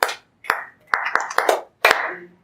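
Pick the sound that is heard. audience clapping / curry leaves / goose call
audience clapping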